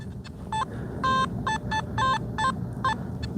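A metal detector beeps in a rapid series of short electronic tones while coin hunting, a quick irregular string of chirps over steady outdoor background hiss.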